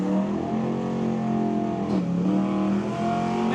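An old pickup and a modern Corvette launch side by side at a street-legal drag race at Mission Raceway Park, their engines revving hard in a sustained roar. The pitch shifts with gear changes about halfway through.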